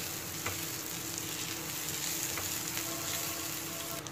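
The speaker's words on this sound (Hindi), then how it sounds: "जो हमारे पास मीडियम साइज़ का एक प्याज था वो मैं ऐड कर दूंगी इसमें बस प्याज को सॉफ्ट कर लेंगे" Continuous soft sizzle of a chopped onion frying in a pan, a steady crackling hiss with a few faint stirring taps.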